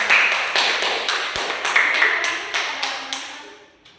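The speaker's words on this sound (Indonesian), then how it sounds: "Kita berikan tepuk tangan kepada mereka." Secondary school students clap in a classroom during a catechesis session, a series of sharp, evenly spaced claps ringing out in a room with some echo and fading toward the end.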